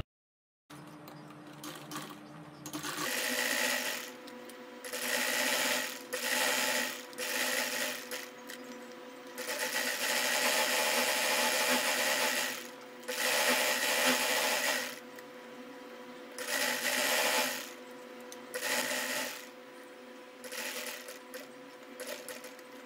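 A sewing machine stitches lace onto a designer slit garment in repeated bursts of fast, buzzing whir, each a few seconds long with brief pauses between, loud and close with no talk.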